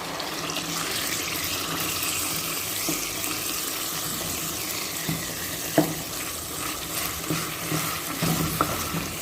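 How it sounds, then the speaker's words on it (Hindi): Minced meat keema with peas fries in a pan on a steady, close sizzle, with a spoon or spatula stirring and scraping now and then, and occasional louder clanks. "कीमा मेल्ट हो गया है और अब हम इसे भून लेते हैं।"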